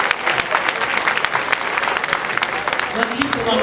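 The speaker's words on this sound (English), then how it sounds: "Let's give them another round of applause," Audience applause at a Mother's Day luncheon and fashion show, a dense, steady patter of many hands clapping throughout, with a voice faintly rising near the end.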